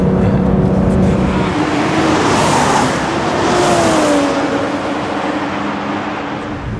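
A BMW 3 Series, 330i M Sport or M340i xDrive, drives a lap on a circuit in Portugal. The engine roars loudly and continuously, and its pitch sweeps up and down through gear changes, with no talking over it.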